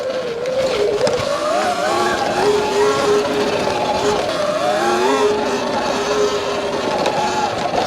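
A 12,000-watt E Ride Pro SS 2.0 electric bike ridden off-road, its motor giving a steady whining drone whose pitch rises and falls with throttle, continuous and close throughout.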